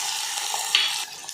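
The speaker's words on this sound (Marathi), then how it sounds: "टमाटर, कढीपत्ता, आता हे चांगलं परतून घ्यायचं" Tomatoes and curry leaves are sautéed in hot oil tempering, sizzling steadily up close with a brief stir of the pan midway.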